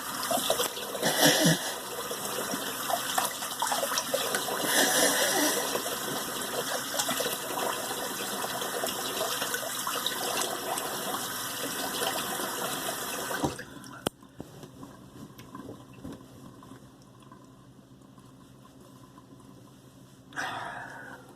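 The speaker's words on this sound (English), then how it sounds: "let's do a cold water rinse" Cold tap water runs for a face rinse after shaving, a close, steady rushing for about thirteen seconds that then shuts off, leaving quiet room tone and a brief splash near the end.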